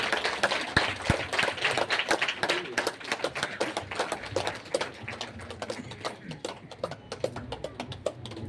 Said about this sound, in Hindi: प्रधान जी के लिए भी जोरदार तालियां।